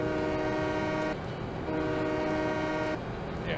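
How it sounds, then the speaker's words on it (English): A train horn sounds in the farming video game Farming Simulator 17, two sustained chord-like blasts, moderately loud, each followed by a short gap of engine rumble, with no talking. "That train whistle is pretty legit."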